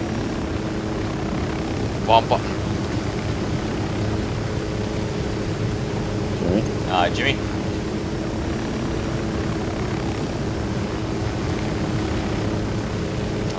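Burning helicopter in the video game Ghost Recon Wildlands, flying with a steady broadband rotor and engine roar. Players talk briefly over it and a few short game sounds come through.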